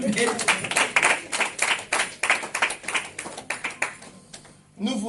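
Hand clapping from a church congregation during a worship service, a dense run of sharp claps in steady rhythm that thins out toward the end, with voices mixed in.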